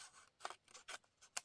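Scissors cut paper for a junk journal: several quick, close, faint snips with short pauses between them in a quiet room.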